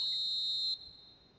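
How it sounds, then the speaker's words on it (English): A single sustained referee whistle in an eFootball match lasts under a second, then cuts off and leaves quiet background. "And the whistle's gone, presumably for offside."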